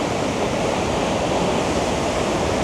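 Minnehaha Falls in Minnesota pours as a dense, steady roar of falling water, loud and unbroken throughout, with no voices.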